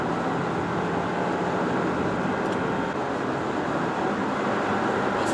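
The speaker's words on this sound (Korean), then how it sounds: "속도를 올리니까 바람 소리도 제법 커지고요." Steady broadband wind and road roar inside a Jeep Compass cruising at speed on a highway, a constant loud rush with no pauses or voices.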